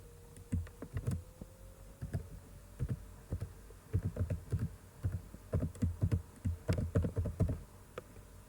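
Someone types a password on a computer keyboard, a string of quick, close, distinct key clicks in irregular bursts with short pauses between them, alone in a quiet room.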